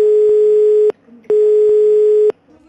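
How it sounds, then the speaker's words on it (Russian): Telephone busy signal on an unanswered call: two long, steady, loud tones separated by a short silence, heard alone. "Делаем несколько звонков до окончания времени приема. Все без ответа."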